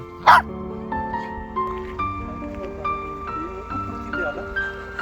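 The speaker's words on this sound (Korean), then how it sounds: "오늘 왜 이렇게 짖고 난리야?" A dog gives one sharp, loud bark near the start during an outing to Anseong, then quieter sounds and a faint tonal hum follow.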